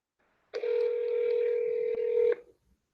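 A telephone keypad gives a single steady dialing tone, clean and close, holding for about two seconds before cutting off, with near silence before and after.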